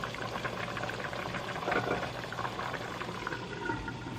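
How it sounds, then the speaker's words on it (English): Water pours from a kettle over pieces of stew beef in a pot, a steady close hiss and bubbling splash that holds evenly without a break. "So I have some water in my kettle, gonna add some to that."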